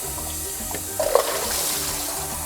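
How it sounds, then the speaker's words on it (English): Cold water runs steadily from a tap to rinse salt off ingredients in a home kitchen, a continuous close splashing flow with no talking. "So let's get some fresh cold water. Let's rinse the salt off of them again."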